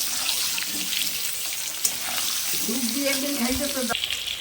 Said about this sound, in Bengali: এটাকে আমি দিয়ে দিচ্ছি এবার ভালো করে আমি আলুটাকে ভাজতে থাকবো